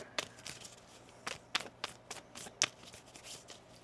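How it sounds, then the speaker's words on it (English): Quiet, crisp riffling and snapping of tarot cards being shuffled, in several sharp bursts with short pauses between, close by and no talking. "One more shuffle here."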